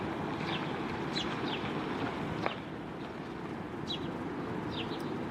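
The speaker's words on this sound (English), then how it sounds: "there are house sparrows gathering materials to build a new nest" House sparrows chirp in a parking lot, short high calls coming in scattered bursts over a steady outdoor hum of distant traffic.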